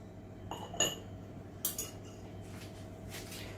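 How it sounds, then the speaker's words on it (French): A utensil clinks and scrapes against a bowl a few times while yogurt is mixed into lemon basboussa batter, with short close taps spread over a quiet background. "Je vais bien mélanger."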